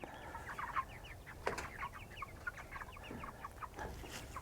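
Meat chickens in a coop cluck softly and repeatedly, several birds overlapping in a quiet, busy chatter with occasional sharper calls.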